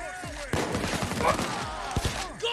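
Rapid bursts of gunfire in the video game Payday 2, loud and close, crackling in dense overlapping volleys with a few sharper single shots, while a voice talks in places over the shooting.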